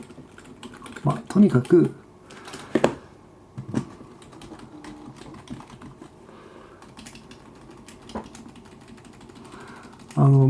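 Rapid typing on a USB keyboard plugged into a Toshiba REGZA AT300 tablet, in uneven bursts of clicking keys, close by, with a person briefly talking in Japanese over part of it.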